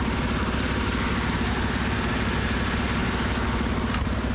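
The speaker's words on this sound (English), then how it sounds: "The engine turned over" A decades-old prison transport bus engine idles with a low, steady rumble, deep and even throughout, with no voices.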